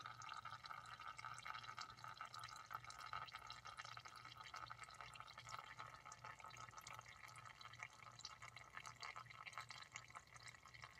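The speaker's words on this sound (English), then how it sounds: "now it's dripping back on itself" Faint transaxle fluid dripping and trickling continuously from a 2003 Honda CR-V, against a low steady background hum.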